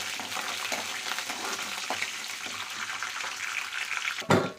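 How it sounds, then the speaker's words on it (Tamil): Steady sizzling of dried red chilies and garlic sautéing in a hot pan, with a few soft stirring scrapes and a louder clatter at the end. "3 வரமிளகாய், பூண்டு சேர்த்துட்டு இது நம்ம லைட்டாக வணக்கிக்கலாம்"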